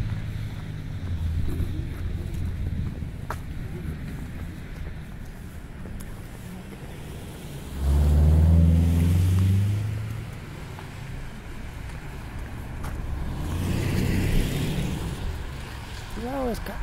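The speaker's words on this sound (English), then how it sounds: "Certain areas of the city just seem to have more wind than others." Gusty wind blows along a city street, rumbling heavily against the microphone in surges while someone talks over a steady outdoor background.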